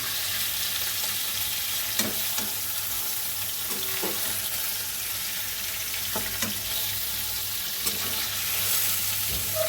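Paneer cubes frying in oil in a pan, a steady sizzle throughout with occasional soft clicks and scrapes of stirring, no voices.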